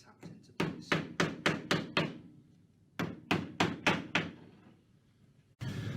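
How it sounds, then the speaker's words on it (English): Brass threaded inserts are tapped into drilled holes in a sink installation, giving sharp, close knocks in two quick rhythmic runs of about six strikes each, separated by a short pause, with a steadier noise at the end. "then all we needed to do was to drop the inserts into each of the holes, and those are simply tapped into place"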